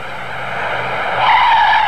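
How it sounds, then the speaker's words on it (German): A car braking hard and swerving, its tires skidding in a rising, sustained squeal that grows louder toward the end. "Blitzschnell bremsen und ausweichen im richtigen Moment."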